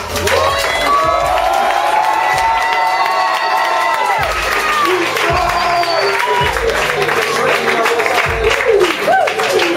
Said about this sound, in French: on lui fasse quand même un tonnerre d'applaudissements